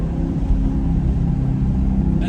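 A C8 Corvette fitted with an AWE Track Edition exhaust idles and revs in a loud, close, throaty rumble, holding a steady low drone with slight swells and no talking.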